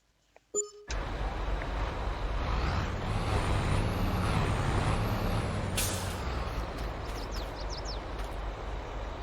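A lorry's air brakes in Farming Simulator 22 release with a sharp hiss, then a loud, steady engine rumble runs on, broken by a second brief hissing burst and faint high chirps.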